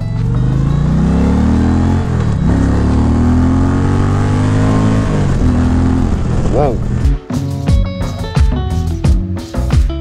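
An Indian Challenger motorcycle engine revs loudly and close, its pitch sweeping up and down in repeated throttle blips, then settling into a choppier idle with voices underneath.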